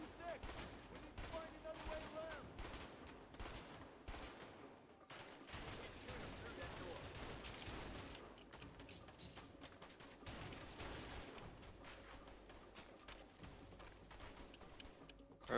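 Gunfire in the co-op video game A Way Out, with bursts of shots and rapid volleys spread across a noisy, busy game soundtrack, steady in level with a few brief lulls.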